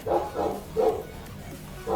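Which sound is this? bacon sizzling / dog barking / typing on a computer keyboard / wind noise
dog barking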